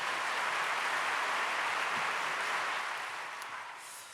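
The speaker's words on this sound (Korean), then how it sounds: "여러분 박수로 목사님 맞이할 수 있기 바랍니다" A crowd at a church prayer service claps continuously in a steady wash of applause welcoming a pastor, fading slightly toward the end.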